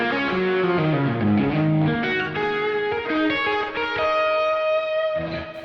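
An electric guitar plays a basic distorted lead tone through a Line 6 Helix, with sustained notes and short melodic lines, loud with no voices.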